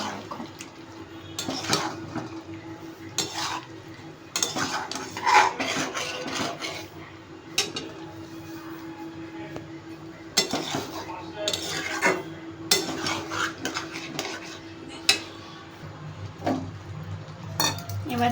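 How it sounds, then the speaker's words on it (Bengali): Chicken pieces being stirred into boiling garlic gravy in a pan, with repeated metallic clinks and scrapes of a spoon against the pan over a steady low bubbling, close and moderately loud, no talking. "এবার এর মধ্যে চিকেনটা অ্যাড করে দেব, দিয়ে ভালো করে মিশিয়ে নেব।"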